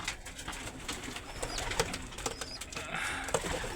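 A young Arab-type racing pigeon in a loft, its soft cooing mixed with other birds' calls and a steady background rustle, close but not loud.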